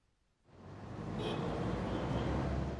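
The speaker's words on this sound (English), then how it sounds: "Traffic noise pollution." Road traffic noise, a steady broadband roar of passing vehicles that rises from near silence within half a second and holds loud and constant with no voices.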